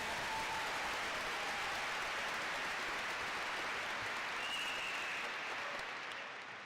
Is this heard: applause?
yes